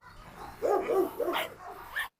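Dogs, a Belgian Malinois and a Karabash, bark and yip at close range in a short burst of several quick, overlapping barks ending in a higher yelp.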